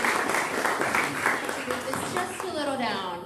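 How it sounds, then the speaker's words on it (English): Audience applause for Kathleen Robbins at the Mid Valley Urgent Care ribbon cutting, a brief burst of clapping that fades quickly as a voice begins speaking. "So, big round of applause for Ms. Kathleen Robbins."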